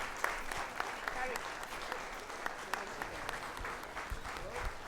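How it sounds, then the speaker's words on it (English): An audience at a public address by the president of Ghana claps in a soft, scattered patter, fairly distant, with a faint murmur of voices underneath. "You'll hear them applaud, and then you'll know."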